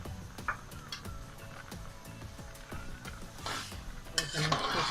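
Rice is stirred with butter and salt in a pot, with rhythmic spoon scrapes and knocks against the metal over a low sizzle that swells into a brighter, louder hiss toward the end.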